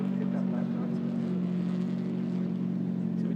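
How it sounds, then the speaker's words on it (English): Touring car engines drone steadily at a distance during a TCR Europe qualifying session at the Nürburgring, a constant low hum with no distinct passes. A commentator's voice is faintly mixed in. "So we do have a couple of cars out on track"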